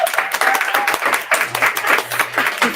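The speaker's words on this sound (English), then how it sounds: "So let's hear it for our guest, Delina." Audience applause at the close of a live podcast event honoring a guest, a dense wash of clapping filling the room for a few seconds with some voices mixed in.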